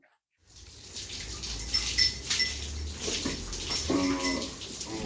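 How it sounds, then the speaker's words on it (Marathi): Water is sprayed onto a Khillar cow during a bath, a steady hissing spray that starts abruptly and continues close by, with a brief clatter near the end. "आता आपण तिरूला पाणी मारून घ्यायला लागलोय"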